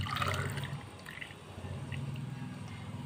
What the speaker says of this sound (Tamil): எடுத்துட்டு இதை வந்து ஒரு கப்புக்கு ஊற்றிடலாம்.